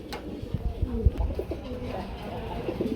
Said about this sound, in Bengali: বাগবা কুম বাগবা কুম করে ডাকিও গো ভাই